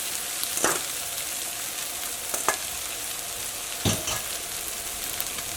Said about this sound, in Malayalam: ഇതിലേക്ക് ഞാൻ ചോറും കൂടിയും ചേർത്തിട്ട് മിക്സ് ചെയ്യാൻ വേണ്ടിയിട്ട് പോവാണ്